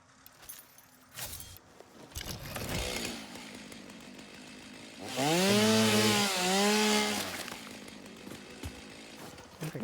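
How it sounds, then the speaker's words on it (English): A chainsaw revs and cuts in Satisfactory, a loud sustained buzzing whine with a pitch that bends up and down for a couple of seconds, following quieter game sounds and clatter. "Chainsaw."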